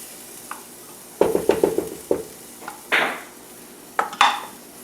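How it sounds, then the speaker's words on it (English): Tomato paste cooking in a pan with scorched spices for a sweet potato and red lentil curry, heard as intermittent scraping stir strokes and utensil clatter against the pan over a faint background sizzle, with several clusters of stirring and pauses between them. "Caramelizing the tomato paste"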